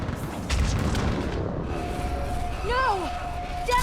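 Artillery fire support booming in the Mass Effect 3 battle on Thessia, low rumbling blasts rolling under voices and whining sci-fi tones, fairly loud throughout.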